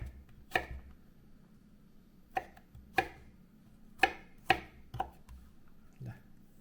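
Temu kunci rhizome is sliced with a knife on a board in a home kitchen, giving about seven sharp, close knife chops spaced irregularly, each a crisp click with a short thud, with no speech.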